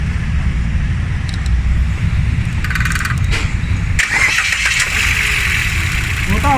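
An engine cranks and catches, settling into a rough idle with scattered clicks and a faint voice in the background.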